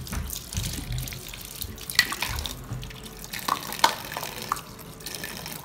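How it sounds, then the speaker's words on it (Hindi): Parts from an LG fully automatic washing machine are rinsed under a running tap, with a steady wash of water broken by a few sharp clinks and drips, close up and with no talk. "इसे मैं अपने पानी से धो रही हूँ"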